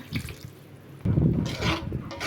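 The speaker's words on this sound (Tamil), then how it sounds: "இப்போ தேங்காய் அரைச்சதுலேயே அந்த தண்ணியை ஊற்றிக்கலாம்" Water splashes and gurgles as it is poured steadily into a pot of dried fish curry with ground coconut for a couple of seconds, close by.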